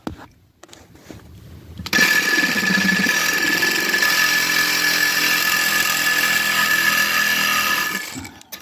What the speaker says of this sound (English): You take your Sawzall, I'm using a skinny little bit metal blade on a hacksaw, and you let that eat into the corners.